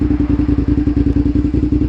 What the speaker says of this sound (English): A little bit throaty, and I like that. That's from cutting the exhaust off.